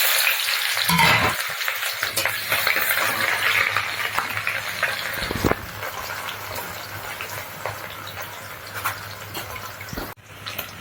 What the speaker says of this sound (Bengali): এদিকে তেল গরম হয়ে গেছে দিয়ে দেবো পেঁয়াজ